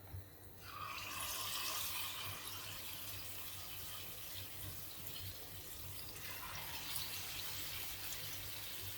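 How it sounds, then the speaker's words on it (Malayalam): Wheat flour and egg snack dough sizzles steadily in hot oil, a loud continuous hiss close by, with no talking. "നമ്മുടെ എണ്ണ ചൂടായിട്ടുണ്ട് നമുക്കതിലേക്ക് ഇട്ട് ഇട്ട് കൊടുക്കാം"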